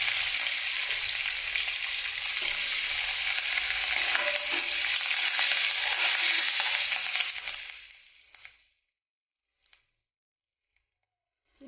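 Curry leaves and turmeric dropped into hot oil for lemon rice, a loud, dense sizzle that crackles for several seconds, then fades out abruptly into near silence with a couple of faint clicks.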